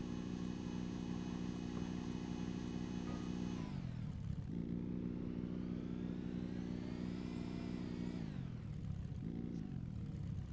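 Low, long truck with a chopped roof in Scrap Mechanic crawling along in a low gear, its engine droning loudly and steadily with pitch dips and rises as it revs.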